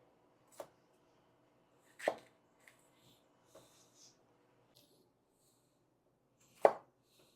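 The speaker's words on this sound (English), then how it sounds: "Same thing with our peppers, with our red habaneros. We're just going to chop them in half." A knife chops red habanero peppers in half on a board, four sharp isolated thunks spaced a second or more apart, close and clear in an otherwise quiet kitchen.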